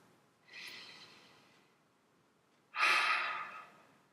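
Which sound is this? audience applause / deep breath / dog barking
deep breath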